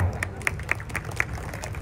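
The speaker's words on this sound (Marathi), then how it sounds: "फिरते ना वैभव साठी सगळ्यांनी टाळ्या कराव्या" Scattered, fairly faint hand claps ring out in a loose uneven rhythm, a small group applauding at a wrestling event in Thane.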